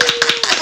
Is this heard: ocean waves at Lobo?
no